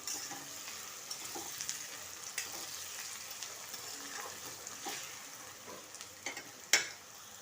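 Onions with salt frying after a whole-spice tempering of cloves and cinnamon for an egg curry, a faint steady sizzle with occasional light scrapes and clinks, one sharper knock near the end.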